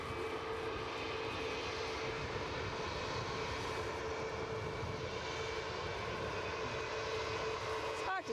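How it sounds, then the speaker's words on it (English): A British Airways airliner on late final approach into Edinburgh Airport gives off a continuous, even engine roar with a faint whine layered over it. It holds steady throughout at a moderate distance. "So British Airways very much in the latter stage of final approach."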